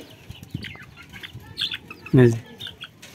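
Chickens and roosters cluck and squawk close by in short, irregular bursts, with one louder, sharper call standing out partway through.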